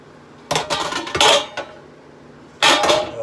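Two metal cake pans clatter and scrape as they are set down on a kitchen counter in a few sharp bursts, a pause, then one more clank, close and loud without talk.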